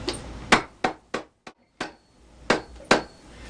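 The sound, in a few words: hammer lightly tapping boot sole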